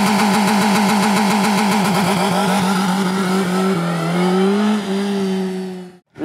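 A Suzuki Hayabusa motorcycle engine revs hard toward its high RPM limit, a loud, close, rising mechanical howl with a steady throbbing pulse, holding high and then cutting off abruptly at the end.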